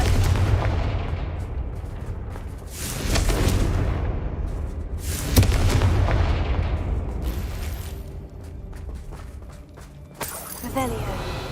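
Fiery Confringo spell blasts in a video game go off as booming, shattering explosions with crackling debris, repeating over several seconds, while a voice speaks over the blasts.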